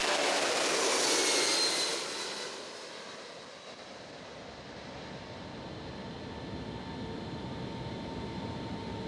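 A military transport aircraft takes off in wet British weather, its engines rising in a loud, airy roar for the first couple of seconds before easing into a steady, muffled drone heard from inside the cabin.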